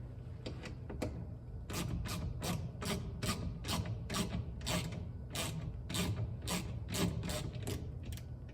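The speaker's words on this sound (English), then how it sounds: "just grab a 8mm bit and bolt it out" An 8mm bolt under the tailgate panel of a 2013 Volvo V70 mk3 is loosened with a bit, giving a steady run of rapid ratcheting clicks, close and fairly loud, over low mechanical rumble with no talk.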